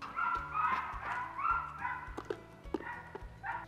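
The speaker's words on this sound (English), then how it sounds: "What is going on with the dogs over there?" Dogs barking in a backyard garden, several quick, moderately distant barks in irregular bursts over low background noise.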